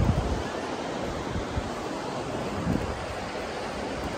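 Ocean surf washes in a steady, broad hiss at a beach beside the Great Ocean Road, constant and moderately distant with no voices.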